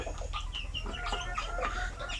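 Chickens on a farm cluck in a busy, overlapping chorus of short calls, close and continuous over a low background hum.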